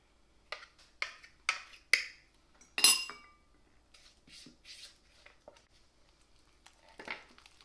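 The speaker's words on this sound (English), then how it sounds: "we're going to stir in our bananas" Mashed bananas stirred into banana bread batter in a mixing bowl, with a run of sharp utensil clinks and taps against the bowl, a few louder knocks early, then softer scraping stirs, no talk.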